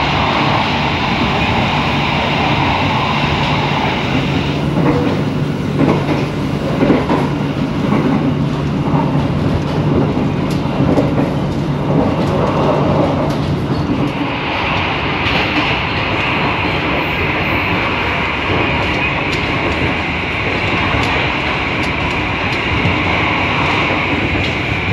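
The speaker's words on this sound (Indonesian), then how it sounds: "perjalanan kereta api Ambarawa Express memasuki stasiun Kradenan" The Ambarawa Express passenger train in Indonesia rumbles steadily along the rails, loud and close from inside, with constant rolling roar and faint rhythmic clatter.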